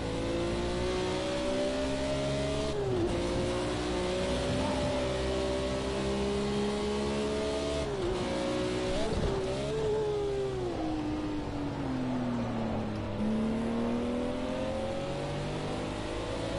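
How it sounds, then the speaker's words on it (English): Race car engine in Project Cars 2 revs hard and continuously, pitch rising and dropping through gear changes as it overtakes another car, loud and close with faint passing engine noise, no talking. "Great overtake."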